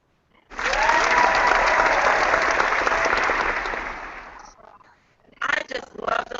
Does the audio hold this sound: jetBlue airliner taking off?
no